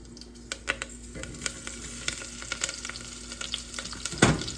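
Curry leaves and onion fry in a pan, giving a crackling sizzle with sharp pops and stirring taps throughout and a louder burst near the end; no one talks.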